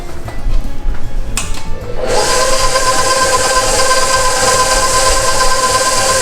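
An electric stand mixer churns pizza dough, a steady close motor whir that starts after a quieter couple of seconds and then runs evenly without a break.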